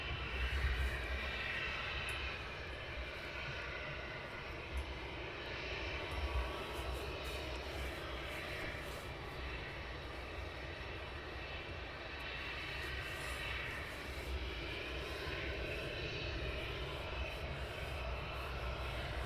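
A departing aircraft at Luton Airport, a faint, distant engine drone that holds steady and low for a long stretch on a chilly early morning, with no voices over it.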